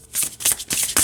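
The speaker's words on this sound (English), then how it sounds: "And overhand shuffling is great too." An overhand shuffle of a deck of cards: cards riffle and slap in quick repeated bursts, several brisk shuffling passes close up, with no voices.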